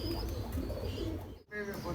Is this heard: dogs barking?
no